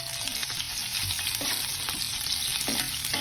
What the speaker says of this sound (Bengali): তেলের মধ্যে পেঁয়াজগুলো দিয়ে দেবো